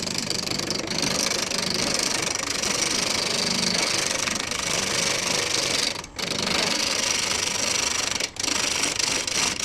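A wood lathe turns a wenge workpiece at 600 RPM for a floating rim clock, giving a steady close mechanical whir and hum with two brief dips in level and no talk.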